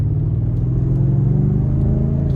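A 2019 BMW M5 accelerates hard, giving a deep, loud, continuous engine roar heard from inside the car, with the low drone holding steady and no talking.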